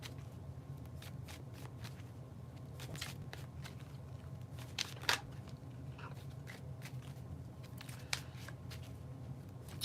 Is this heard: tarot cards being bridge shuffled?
yes